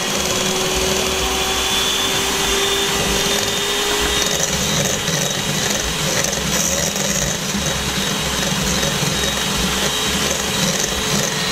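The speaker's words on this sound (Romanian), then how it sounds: "Le facem cu mixerul de mână" Electric hand mixer beating egg yolks with oil for a simple marbled sponge cake, a continuous loud motor whine with steady beating, unbroken throughout.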